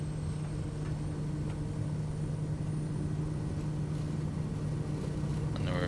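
Kodiak aircraft engine running at takeoff power, a steady, droning hum with a strong low tone, continuous and even throughout, no voices over it.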